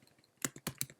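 Close, quick keystrokes on a computer keyboard: about four soft clicks in a short burst, with no talking.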